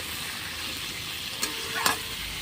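Washed potatoes frying in a pan with a faint, steady sizzle, plus a couple of short scraping stirs near the end.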